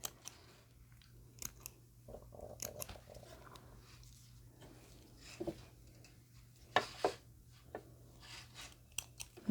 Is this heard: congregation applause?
no